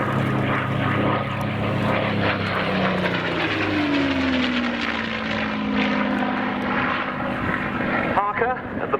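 A P-51 Mustang, an aircraft with a V1710 engine, flies past at an airshow. Its propeller engine drones loud and steady, and the pitch sweeps downward as it passes. A narrator talks over the sound throughout.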